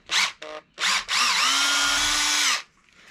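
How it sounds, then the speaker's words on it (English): Power drill boring a pilot hole for a van solar panel roof rack built on 80/20 aluminium framing, with short revving bursts followed by one long steady whine of about one and a half seconds, loud and close. "a pilot hole first, and then I will use my other drill to drill a 5/16 hole"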